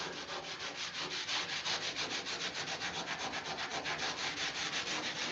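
Steady, continuous scrubbing of a Scotch-Brite pad over the original, aged paint on a 1969 VW Camper van, a close, rhythmic rasping with even back-and-forth strokes and no talking.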